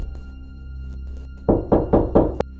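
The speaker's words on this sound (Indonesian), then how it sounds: "Bunyi pintu seperti dipukul-pukul menggunakan kepala." A door being pounded as if struck repeatedly with a head: four heavy, evenly spaced thuds, close and loud, over a steady low hum.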